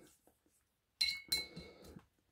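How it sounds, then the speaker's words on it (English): Old glass coffee jars used as water jars clink together with a couple of sharp bright knocks and rattles, near and quiet after a few faint soft handling sounds. "Just opening up my water jars. I use old coffee jars, which have a good vacuum seal."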